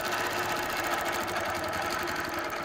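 A sewing machine stitching continuously while quilting along a template, a rapid steady mechanical whirr and needle clatter that stays close and loud throughout.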